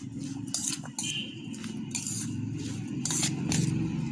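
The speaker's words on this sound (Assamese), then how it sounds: "এতিয়া এইখিনি মই ভালকৈ মিক্স কৰি ল'ম।" A spoon stirs instant chilli pickle with ginger-garlic paste and non-fruit vinegar in a dish, giving repeated scraping and light clinking strokes close by, with no talk.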